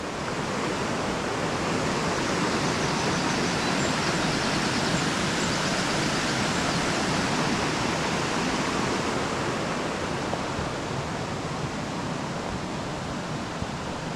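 A river pours over a waterfall at Stichill in a steady, unbroken rush of broadband water noise that holds at even strength throughout, close and enveloping with no voices.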